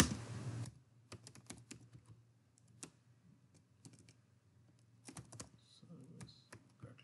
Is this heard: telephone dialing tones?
no